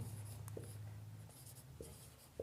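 Chalk or marker writing on a board during a Class 10 math lesson on triangles, a steady faint scratching with a few soft taps, heard alone without talk.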